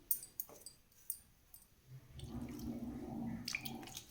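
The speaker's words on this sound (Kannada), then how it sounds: "ಇದನ್ನು ಒಂದೊಂದು ಸ್ವಲ್ಪನೇ ನೀರು ಹಾಕಿ ಕಲಿಸ್ಕೊಂಬಿಡ್ತೀನಿ" Water trickles and splashes softly into a jamun powder mix in a kitchen, faint and close, after a few scattered light taps.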